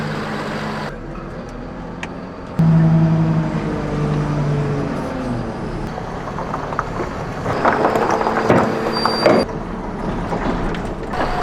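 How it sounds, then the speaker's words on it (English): A Youngby L18 loading shovel works steadily, removing sand and mud from between stones and loading it into a trailer, its engine droning with mechanical clanks and wind noise, rising in effort partway through. "The Youngby L18 loading shovel is used with a special attachment to remove the sand and mud from between the stones and load them in the trailer."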